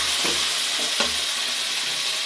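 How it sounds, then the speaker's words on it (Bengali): Jackfruit and boiled potato frying in a pan, a steady broad sizzle with brief stirring clatters, close and moderately loud, no voices. "এঁচোড় আর আলুটা আমি ভেজে নেব।"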